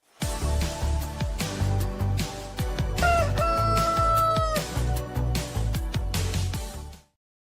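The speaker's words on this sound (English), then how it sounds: "That rooster means one thing." Rooster crowing loud and close in one long drawn-out call, with clucking fowl around it and no talk.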